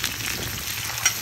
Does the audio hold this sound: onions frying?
yes